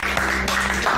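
Brief burst of applause and cheering from a small group in a festive Christmas movie scene, dense steady clapping for about a second.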